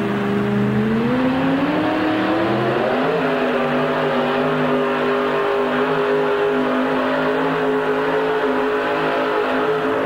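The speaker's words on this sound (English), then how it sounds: "Listen to this truck." An Orange Blossom Special truck engine revs loud and close, its pitch climbing steadily over the first few seconds, then settling into a strong, sustained high-rev drone with no talk over it.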